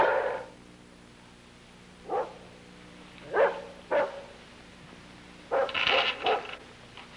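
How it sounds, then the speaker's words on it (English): A dog barks in several separate bursts, a few single barks and then a closer cluster near the end, loud against a quiet indoor background with no talking. "All I can hear is that darn dog barking."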